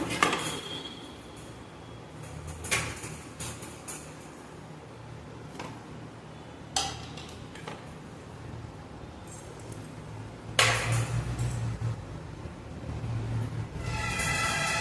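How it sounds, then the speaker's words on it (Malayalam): Chopped ivy gourd, onion and green chillies tipped into an iron wok on a Kerala kitchen stove, giving scattered clattering knocks and scrapes at intervals, with a louder burst of clinking near the end and no talk. "അരിഞ്ഞെടുത്തിട്ടുള്ള കോവയ്ക്കായും സവാളയും പച്ചമുളകുമെല്ലാം നമുക്ക് ചീൻചട്ടിയിലേക്ക് മാറ്റാം"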